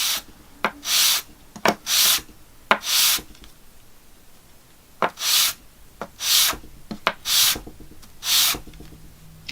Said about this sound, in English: I'm just going to rough the surfaces up with a bit of sandpaper to make a better glue joint.